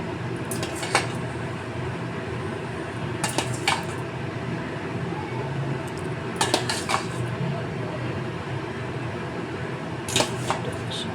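Homemade thick yogurt spooned over dahi vada fritters in a kitchen, with sharp clinks of a spoon against a bowl in four short clusters over a steady fan-like hum.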